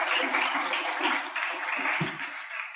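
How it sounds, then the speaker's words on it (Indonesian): Classroom applause in a school lesson, a brief wash of clapping from a group of students, moderately loud and steady. "tepuk tangan untuk kita hari ini"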